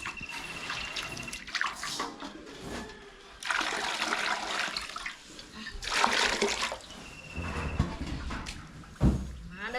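Water is poured into cattle feed outdoors in a village, heard as several loud, splashy gushes separated by short pauses.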